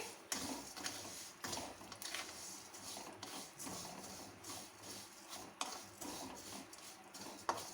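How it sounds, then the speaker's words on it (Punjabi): Vermicelli is roasted in warm ghee in a pan over a medium flame, stirred with repeated scraping and rustling strokes in an uneven rhythm, close and fairly quiet. "ਹੁਣ ਅਸੀਂ ਇਹਨਾਂ ਨੂੰ ਮੀਡੀਅਮ ਜੇ ਫਲੇਮ ਤੇ ਭੁੰਨ ਲਾਂਗੇ"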